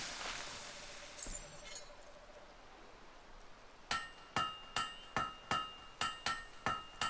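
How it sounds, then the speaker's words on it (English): Hammer strikes ring out on metal in the video game Fable III, a quiet lead-in followed by a steady series of about eight bright, clanging blows, evenly spaced and fairly close. "You know how to use a hammer."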